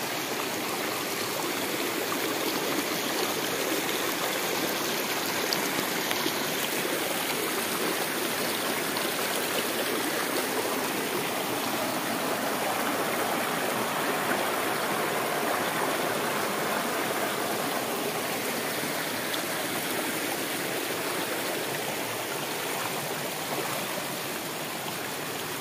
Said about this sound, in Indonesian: Inilah Sungai Kilompios